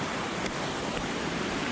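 A waterfall near Füssen, Germany, pouring in a loud, steady broadband rush close at hand, with no voices over it.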